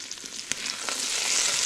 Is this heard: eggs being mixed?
yes